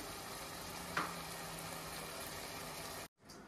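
Chicken leg pieces in a gravy curry simmer in a pan with a steady, close bubbling sizzle, one brief louder pop near the start, and the sound cuts off abruptly near the end.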